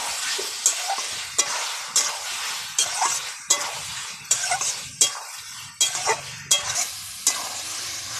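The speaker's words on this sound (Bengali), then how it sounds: "এবারে দিয়ে দেবো আলু, পটল, কোয়াশ ভেজে রেখেছিলাম সেটা দিয়ে ভালো করে আবারও একটু কষিয়ে নেব।" Chicken with fried potato, pointed gourd and squash being sautéed in a pan, a steady sizzle broken by rhythmic scraping strokes of a spatula, roughly one every second, close and clear with no talking.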